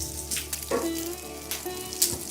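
Curry leaves dropped into hot oil for a tempering, crackling and sizzling up close with a few sharp pops over a steady frying hiss, with no voices.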